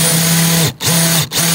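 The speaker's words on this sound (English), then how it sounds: "go through there and hit it with the old trusty countersink bit" A power drill with a countersink bit bores into wood in a garage workshop, a loud close whirring hum broken by two short pauses as the trigger is released and squeezed again.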